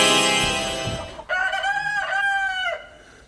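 A rooster crows once, loud and close, its long wavering call rising and holding for over a second before fading, set in a small town's morning and preceded by a brief burst of other noise.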